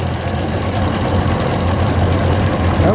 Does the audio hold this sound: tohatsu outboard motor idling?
yes